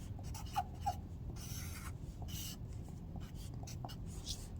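Marker or chalk writing on a classroom board during an Algebra 1 lesson on solving equations, a steady scratchy rubbing with a few brief squeaks, close and fairly quiet, with no talking.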